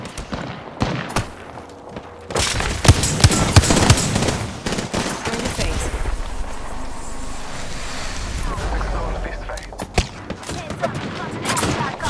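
Rapid video game gunfire, with bursts of automatic shots and sharp cracks close up and loud, over a rumbling, wash-like background, and a person talking now and then.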